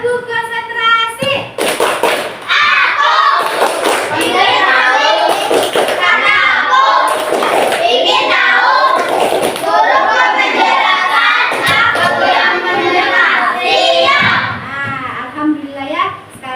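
A classroom of children chant loudly and clap in rhythmic patterns for a concentration clap, with bursts of hand claps between stretches of children's voices, close and continuous.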